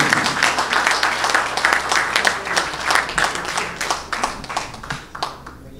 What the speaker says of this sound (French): Qu'on applaudisse très fort, M.